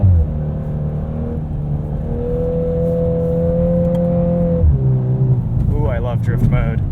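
A 2022 Volkswagen Golf R with a DSG gearbox revs in drift mode on snow, its engine note climbing in a steady, strong tone before dropping sharply, while someone speaks near the end.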